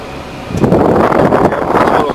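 A small 4-volt electric fan switched to its high setting, a steady airy whoosh and motor drone that grows louder partway through and keeps running without pause.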